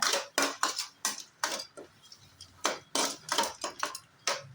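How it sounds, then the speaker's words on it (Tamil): Curd rice is mixed with salt in a bowl by hand or spoon, heard as a close run of soft, wet squelches and light taps in an irregular rhythm. "இப்போது இதில் சேர்த்துருவோம் நல்லா அதோட கலந்து விட்டுக்குங்க"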